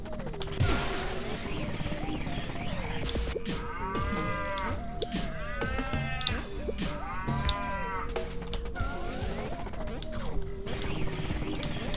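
Cartoonish cow moos repeat several times from the Pizza Tower video game, rising and falling in clear arcs over busy game music and sound effects, with a voice talking at the start.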